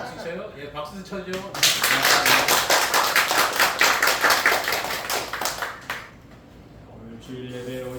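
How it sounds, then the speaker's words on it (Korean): Church congregation applauding during a Sunday worship service, a dense burst of many hands clapping loudly for about four seconds, then fading as a voice resumes speaking. "예, 박수 쳐줘."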